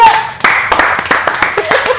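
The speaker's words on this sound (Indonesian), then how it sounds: "Tepuk tangan dulu yuk." Several sharp hand claps in an irregular patter, close and moderately loud, during an Indonesian podcast with co-founders, with a faint voice underneath at the start.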